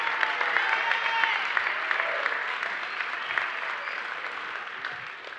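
A church congregation on Palm Sunday breaks into sustained applause with scattered shouts and cheers, a dense, steady roar of many hands that holds loud throughout before easing slightly at the end.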